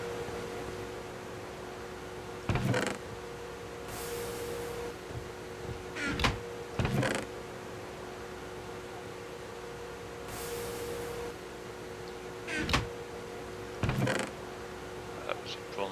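A lathe in heavily modded Minecraft (GregTech New Horizons) runs with a steady machine hum, broken by several short clanking mechanical bursts and brief hissing swells at irregular intervals.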